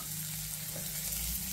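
Chopped green chili and onion fry in hot oil in a pan with cashews and raisins, giving a continuous close sizzling crackle that carries on alone.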